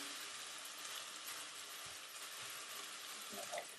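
Cooked rice frying in a pan for Thai fried rice, a steady soft sizzle with occasional faint stirring clinks, quiet and continuous without talk.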